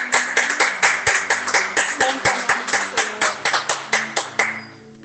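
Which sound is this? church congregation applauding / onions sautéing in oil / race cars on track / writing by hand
church congregation applauding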